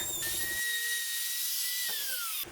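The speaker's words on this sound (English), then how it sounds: "start drilling the keyhole about an inch or so away and moving it towards that mark" A drill bores a keyhole slot into a piece of wood, moved toward a marked balance point; a loud, steady high-pitched motor whine runs close and alone, with its pitch dipping slightly before it cuts off.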